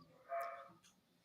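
A dog barks faintly once or twice in the background, a short distant yip-like bark followed by a softer second one, with a low room hum underneath.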